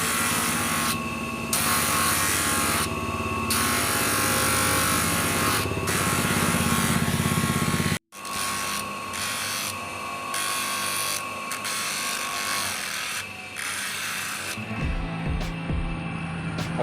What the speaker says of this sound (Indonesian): kita amplas saja di sini